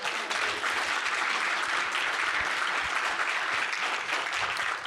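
A live political rally crowd in Wisconsin cheers and applauds steadily, a dense continuous wash of clapping and whoops that holds at a constant level throughout with no speech over it.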